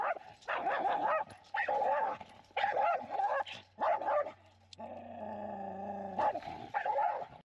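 A dog barks and yips repeatedly in a loud, close series of bursts during a training session near a fence. A steady tonal whine is heard in the middle stretch.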